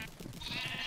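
Sheep bleating in Minecraft, in a crowded pen on a wool farm where many sheep are being bred, a single short, faint bleat heard alone.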